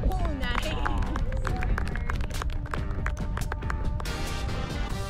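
Golf gallery in Utah applauding after a 30-foot putt is holed on the 10th green, scattered claps and a murmur of the crowd at moderate distance, steady over several seconds with a voice talking over it.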